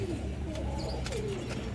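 A caged pigeon gives soft, low cooing for a moment close by, over a steady background hum.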